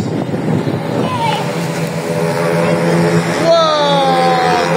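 A motorbike passes by in windy, rainy weather, its engine a steady drone that rises and falls in pitch as it goes by, with gusty wind noise throughout.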